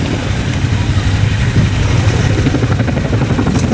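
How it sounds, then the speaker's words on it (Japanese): A CH-47 Chinook transport helicopter at a live-fire military demonstration, delivering a 120mm mortar, gives a steady, loud rotor drone with a rhythmic low beat that continues throughout, with no clear talk over it. "輸送ヘリコプター CH47 通称チヌークが 120mm 迫撃砲を投入してきました"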